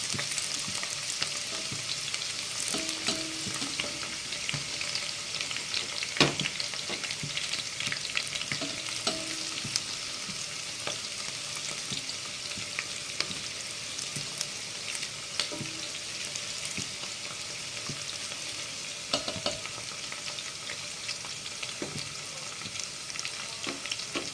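Oil sizzles steadily in a pan while sliced garlic and shallots are sautéed, with occasional soft clinks and scrapes of stirring.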